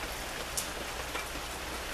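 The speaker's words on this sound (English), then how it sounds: "Rain." Steady rain falls with dense, even hiss and faint patter of drops, with no voices over it.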